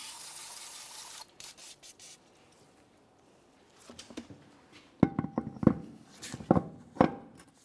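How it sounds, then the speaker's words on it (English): Parts cleaner sprayed from an aerosol can into the wheel well of a 2001-2005 Ford Explorer Sport Trac during a brake hose job: a steady close hiss for about a second, then scattered metallic clanks and taps. "I'll just hit it with some parts cleaner and make sure it's nice and clean"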